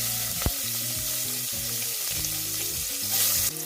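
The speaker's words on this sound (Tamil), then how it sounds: "எண்ணெய் நல்லா சூடானோடனே பிரியாணி இலை, பட்டை, ஒரு வெங்காயத்தை நம்ம சேர்த்துருவோம்" Bay leaf, cinnamon and onion drop into hot oil and sizzle steadily up close, with a sharp crackle near the start and a louder hissing surge near the end, over a low tonal hum.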